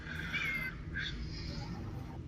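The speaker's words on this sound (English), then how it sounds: "What's with the cat noises?" A real cat meows twice, fairly faint, over steady room noise during a tabletop role-playing game session, with no talk over it.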